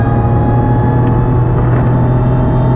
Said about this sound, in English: The supercharger whine is really noticeable with an open element filter